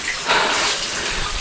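Deep water flowing steadily in a stream or channel, a loud continuous rushing gush that swells briefly before settling into an even wash.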